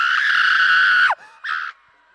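Woman screaming loudly into a microphone at a carnival launch event, one long sustained shrill scream that breaks off abruptly, followed by a shorter second scream.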